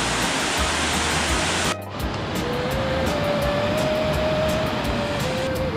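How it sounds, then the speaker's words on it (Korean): Steady, loud rushing roar of a waterfall in a mountain valley on Juheulsan, Mungyeong, filling the whole clip with dense broadband noise, briefly dipping once, with a faint tonal hum in the background. "폭포 소리가 계곡을 울려 퍼지고 있습니다."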